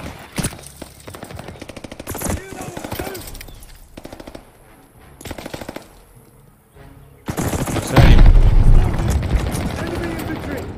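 Gunfire in the video game Call of Duty Vanguard: bursts of rapid machine-gun fire and shots, some distant and some close, growing loudest near the end, under someone talking.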